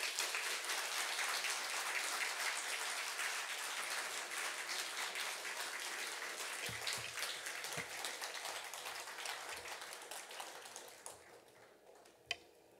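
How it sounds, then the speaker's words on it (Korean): Church congregation applauding at an evening revival service in Cheongju as the pastor is welcomed to the front, a dense, steady wash of clapping that fades toward the end. "우리 격려하는 마음으로 목사님 박수를 맞이하겠습니다."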